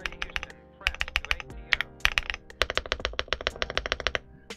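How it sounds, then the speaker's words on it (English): Rapid typing on an Infiverse Infi75 mechanical keyboard: a close, steady stream of crisp clacky keystrokes, some deeper space bar presses among them, with no talking. "The space bar almost sounds like it's a ghost bar, and I'm just surprised at how well it sounds."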